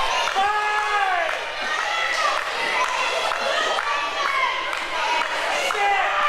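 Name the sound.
wrestling crowd cheering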